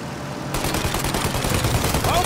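Rapid gunfire in a Mafia shootout aimed at a plane's engines as it prepares to take off, a loud, dense burst of shots starting abruptly and continuing without pause, with shouted voices over it.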